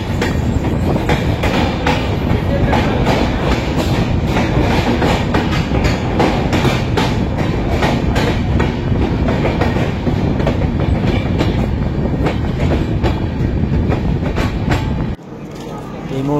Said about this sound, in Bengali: Train departs from Madhupur junction.